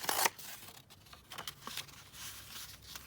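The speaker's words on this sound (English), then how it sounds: "Let me just tear this piece off." A piece of paper is torn off at a desk, with a quick rip at the start followed by soft rustling and crinkling handling noises, quiet and close.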